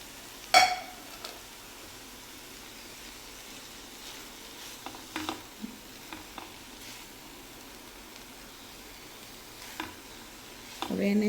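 Grated paneer is stirred in a pan, with faint scraping and clinks of a spoon against metal and a soft sizzle, quiet and sparse with a louder scrape at the start and end.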